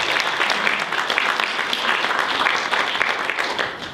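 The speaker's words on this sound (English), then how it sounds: "Round of applause." Audience applause at a war-game simulation event fills the whole moment, a dense, steady wash of many hands clapping at full volume that tapers slightly at the end.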